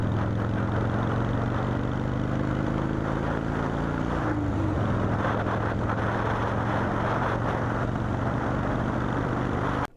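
A Shovelhead motorcycle engine holds a loud, steady drone around 2,500 RPM under load, with a brief stumble near the middle where the pitch dips and wavers before settling back to an even run.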